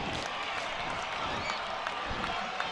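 A crowd at a high school football game at Cyclone Stadium sends up a steady, dense roar with scattered cheers and clapping, loud and continuous throughout.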